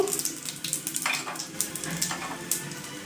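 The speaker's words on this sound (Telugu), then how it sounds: "ఆయిల్ వేడెక్కిన తర్వాత దాంట్లో కాస్త ఆవాలు జీలకర్ర శనగపప్పు" Mustard seeds, cumin and chana dal hit hot oil with a close, bright sizzle, crackling and spitting in quick irregular pops over a steady frying hiss, loud and unbroken with no voices over it.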